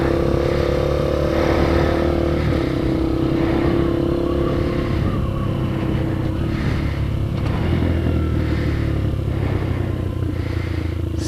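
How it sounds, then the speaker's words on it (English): A cold Kayo MR150 motorcycle engine with a fuel starvation problem runs up through its gears, a loud, close, continuous engine drone with rising and falling tones and no talk. "So far it's running through the gears, even though it's cold."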